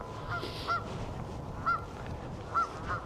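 Several geese give short nasal honks at a steady, spaced rhythm, about five calls spread out over an outdoor Oxfordshire setting, moderately close above a soft background rumble.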